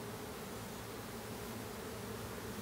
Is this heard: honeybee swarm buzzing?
yes